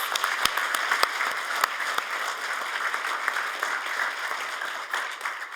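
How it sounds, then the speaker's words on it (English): Steady round of applause from the audience at an arts awards ceremony, many hands clapping evenly with a few sharper claps standing out, continuing without talk. "Let's please give them a round of applause."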